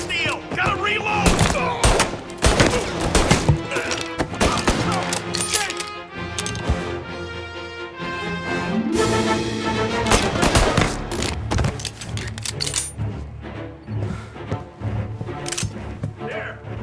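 Rapid bursts of automatic gunfire and single shots from Mafia Definitive Edition, loud and dense throughout with a brief lull midway, over a musical score, with a voice speaking in places.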